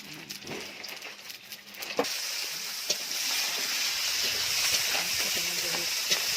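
Panch phoron five-spice seeds crackling in hot oil in a home kitchen, a loud, bright, continuous sizzle that swells after an initial burst of popping and stirring.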